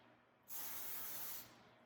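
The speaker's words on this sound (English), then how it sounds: "Nice light spray to cover it." A short burst of cooking spray hisses onto a clean baking pan, one steady spray lasting about a second, close and fairly quiet, with silence on either side.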